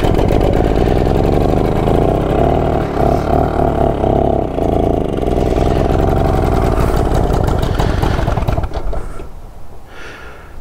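A BSA Bantam motorcycle engine runs loud and close with a steady, rapid two-stroke chatter for about eight seconds, then dies away quickly near the end.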